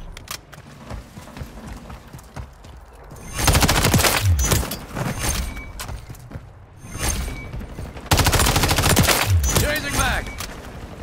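Bursts of rapid automatic gunfire in a tactical shooter firefight, loud volleys alternating with quieter stretches, with a voice speaking between the bursts.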